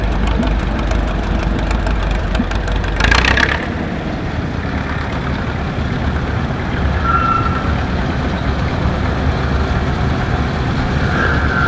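A vintage Allis Chalmers G6 loader idles at an outdoor steam show in Maryland, its engine a steady loud rumble throughout, with a brief louder burst early on and faint tonal beeps in the background.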